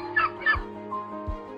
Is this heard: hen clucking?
yes